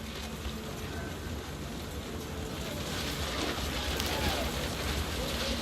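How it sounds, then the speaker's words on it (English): Heavy rain pours steadily onto a crudely made tent in What Remains of Edith Finch, a soft, constant hiss with faint wind and a low background rumble, growing slightly louder toward the end. "The rain came down in buckets then, but no one seemed afraid that nature might destroy the tent our dad had crudely made."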